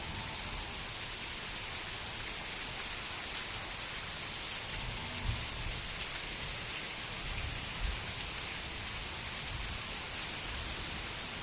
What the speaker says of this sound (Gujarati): ભારે વરસાદ હાલમાં પડી રહ્યો છે